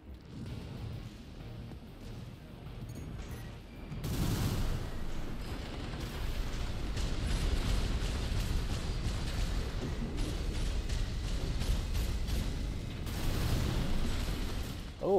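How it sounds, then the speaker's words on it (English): Missile volleys strike an enemy mech in Armored Core 6 PvP combat, landing as a dense run of booming impacts and crackling bursts over a rumbling mechanical bed, loud and continuous after a quieter start. "Ooh, got him with some missiles."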